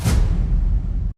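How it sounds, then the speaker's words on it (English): A heavy, booming cinematic impact sound effect for progressive house, with a deep low rumble and a bright burst at the start, sustaining briefly before cutting off abruptly. "And then an impact."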